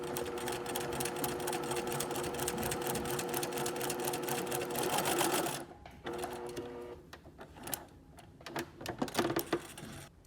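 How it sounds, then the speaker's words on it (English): A sewing machine stitches a bias-strip seam with rapid, rhythmic mechanical clatter up close, running continuously for about five seconds, then continuing in shorter stop-and-start bursts. "you're going to sew on your guideline, which is 1/4 inch seam allowance"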